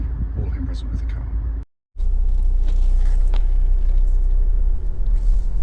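A Honda CR-V 1.6 i-DTEC diesel idles with a steady low rumble, cutting out briefly before resuming at an even, constant level.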